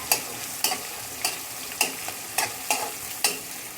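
Chopped onions frying in a pan over a steady sizzle, with a spatula scraping the pan in regular strokes about every half second, close and clear, no voices.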